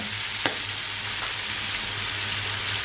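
Pork sizzles steadily in a hot pan, a dense close hiss with a faint clink near the start.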